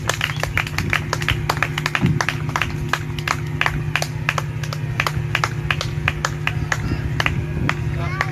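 A church congregation claps in a brisk, steady rhythm to acclaim the Lord. The sharp hand claps repeat evenly over a sustained musical drone, and voices mingle with the clapping.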